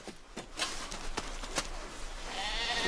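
Several sheep bleat in short, overlapping calls at close range, with a soft rushing noise rising underneath toward the end.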